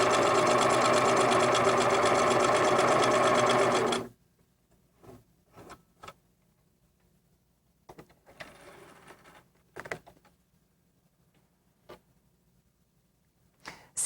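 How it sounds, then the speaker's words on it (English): A sewing machine stitches quilting fabric, whirring loudly and steadily for a few seconds up close, then stopping, followed by faint scattered handling clicks and rustles. "I'm gently moving the fabric and pivoting it as I'm sewing"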